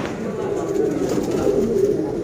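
Breeder and flying pigeons coo in a loft, a steady murmur of low, throaty coos running throughout at close range, with a voice faintly mixed in.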